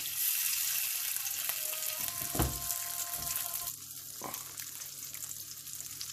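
Marinated paneer tikka frying in a pan with a tablespoon of oil: a steady hiss of sizzling with a few clunks and a scrape around the middle, the frying settling slightly quieter toward the end.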